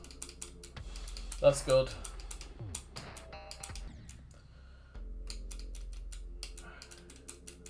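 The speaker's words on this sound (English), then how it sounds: "new controller's clicky" Clicky buttons on a new game controller tap out in quick, uneven bursts up close throughout, with someone talking over them for much of the stretch.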